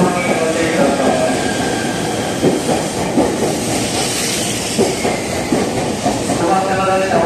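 A 253 series limited express train at a station platform, a continuous rumble with rail clatter and hiss, fairly loud and steady throughout with no talk.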